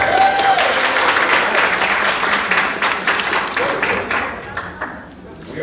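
Audience applause fills a room at a presentation event, a dense, steady wash of many hands clapping at close range that thins and fades out toward the end.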